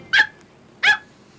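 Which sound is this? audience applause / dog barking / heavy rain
dog barking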